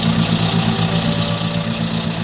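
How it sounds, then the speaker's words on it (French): A steady, loud mechanical engine drone rumbles continuously as a helicopter takes off in a Roblox Five Nights at Freddy's game, dense and unchanging with no talk over it. "On dirait qu'il y a un hélicoptère"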